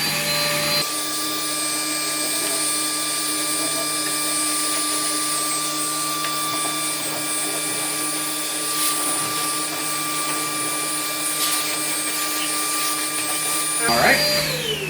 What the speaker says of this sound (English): we're gonna go ahead and grab our shop vac here. And we're going to go ahead and fire it up